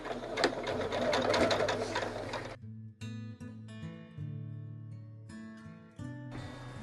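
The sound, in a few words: sewing machine stitching fabric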